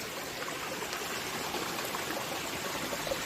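Mountain valley stream in Bonghwa, North Gyeongsang, rushing and splashing steadily with heavy flow, a dense continuous sound close by with no voices.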